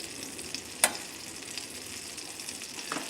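Mushrooms and onions sautéing in about a tablespoon of butter produce a soft, continuous sizzle with light stirring, plus one sharp utensil click early on.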